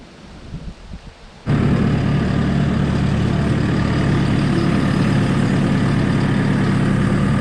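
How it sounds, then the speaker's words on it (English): A steady, loud engine rumble starts abruptly after a quieter moment, then holds a constant idling drone close by for several seconds. "seriously powerful engine."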